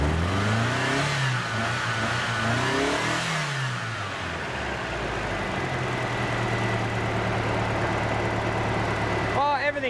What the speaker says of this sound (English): I'm just gonna give it a little tickle on the throttle, see what it does.